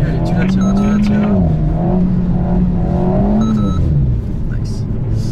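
An Alpine A110 S drifting on ice revs and accelerates, its engine note rising and falling under loud, close talk inside the car, then the revs cut away near the end.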